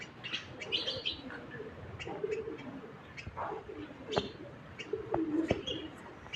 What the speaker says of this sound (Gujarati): કબૂતર ચણ ખાઈએ.